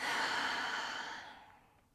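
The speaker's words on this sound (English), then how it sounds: "Take a deep inhale here. Exhale through your mouth." One long, deep exhale through the mouth during a yoga chest and shoulder stretch, a breathy rush heard close that starts full and gradually fades over about two seconds.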